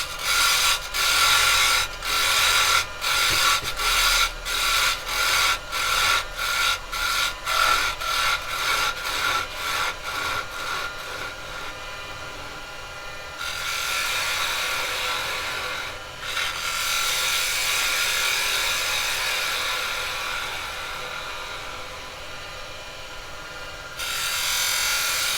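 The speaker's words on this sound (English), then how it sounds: "Roll it over on the bevel. Cut it in." Carbide chisel cutting scrap wood on a lathe, starting with a fast train of regular scraping pulses that blend into longer steady rasping cuts, loud and close with no voices.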